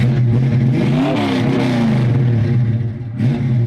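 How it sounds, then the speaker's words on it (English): A 1967 Ford Mustang with a stroked 302 V8 revs loudly up close, its rough idle rising and falling through several throttle blips with a deep, steady rumble and no talking. "we've got a 67 Mustang with a stroked out 302"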